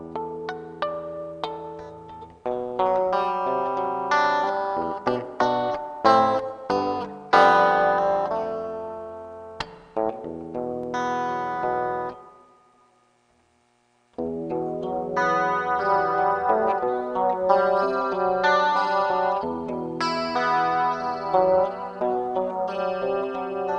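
Clean electric guitar played through an early-90s reverb pedal, a chorus and a super chorus, ringing chords and picked notes with a shimmering, echoing tail, briefly dropping to silence midway before resuming, with no talking.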